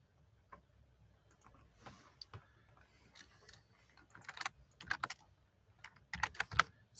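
Someone types code on a computer keyboard in scattered bursts of close, crisp key clicks with short pauses, growing denser toward the end.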